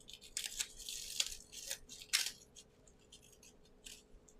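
Paper is peeled out of a handmade paper pumpkin, a string of soft crinkling and tearing rustles in short irregular bursts, quiet and close, fading to sparse faint crackles.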